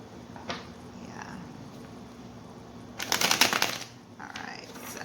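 Tarot cards are shuffled close by in a brief riffling burst of rapid papery flutters, with a few soft card taps before and after in an otherwise quiet room.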